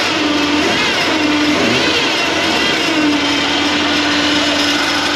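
A 1981 Jeep Wagoneer engine runs at a steady idle, loud and close, with a constant mechanical drone and a faint ringing tone throughout and no talking.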